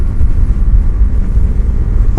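A 2020 Indian FTR1200 motorcycle pulls hard, a loud, deep rumbling exhaust dominated by low tones and wind buffeting, sustained for about two seconds.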